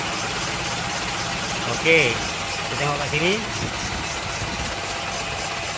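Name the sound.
car engine idling roughly after disconnecting aircon vacuum hose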